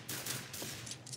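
Gunfire in the Zombie Zone shooter game, a quick burst of several faint sharp shots in a fast, uneven rhythm over a low background rumble.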